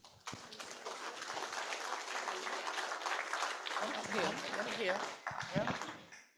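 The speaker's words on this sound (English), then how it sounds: "Give a big round of applause for David Boote." An audience at a Chingford Historical Society talk gives a big round of applause, a sustained dense clatter of clapping that fades out as voices come through near the end.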